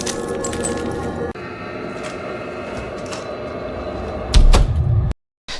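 A door is pushed shut in a dramatic action scene. A sliding scrape over a constant background hum ends in a loud, heavy thud near the end, followed by a brief cut to silence.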